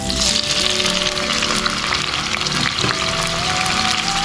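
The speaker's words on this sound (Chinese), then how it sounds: "炒一个番茄汁。" Tomato sauce fries hard in hot oil in a pan in a small rented-room kitchen, giving a loud, continuous, close sizzle. A faint stir is heard near the middle, and there is no talking.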